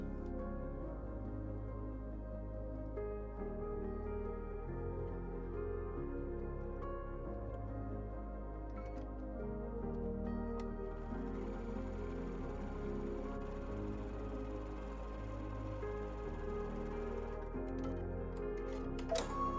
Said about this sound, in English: Now that I have finished chain sewing the 6 pieces